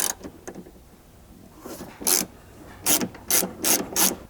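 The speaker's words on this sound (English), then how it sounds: "you can remove that using a T50 Torx" A T50 Torx bit ratcheting out a seatbelt bolt in a Ford Bronco, a series of short, raspy ratchet clicks in quick bursts, close and fairly loud, with no talking.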